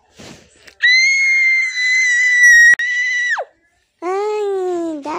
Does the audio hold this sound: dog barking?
no